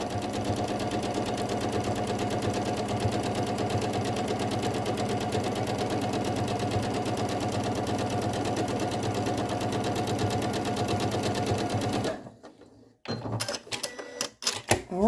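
A sewing machine stitches quilt pieces in one long, steady run of rapid mechanical chatter lasting about twelve seconds, close and loud, then stops, leaving scattered handling clicks and knocks.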